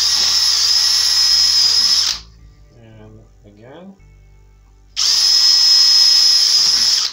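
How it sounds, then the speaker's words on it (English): A power drill whines loudly for about two seconds, drilling through a shaker table classifier for gold, stops while someone speaks briefly, then drills again at full volume. "take my drill and just drill through there"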